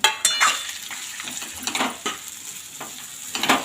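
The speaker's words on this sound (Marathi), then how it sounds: "आता हे वांगे सर्व एकत्र मिक्स करून घ्यायचे आहे तेलामध्ये" Eggplant being stirred into oil in a pot, with a close, steady sizzle of frying and repeated scrapes and clinks of a utensil against the metal, no talking.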